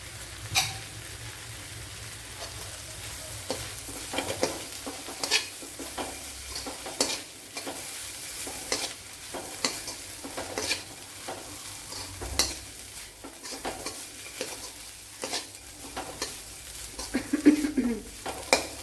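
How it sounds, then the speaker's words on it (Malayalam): Onions fry in a pan with grated coconut stirred in for a spiced quail egg roast, a steady close sizzle broken by repeated scraping strokes of a spoon against the pan, with no talking. "ഇവിടെ ഇപ്പൊ ഉള്ളിയൊക്കെ വെന്ത് വന്നിട്ടുണ്ട് ഇതിലേക്ക് ഒരു പിടി തേങ്ങ ഇട്ട് കൊടുക്കാം"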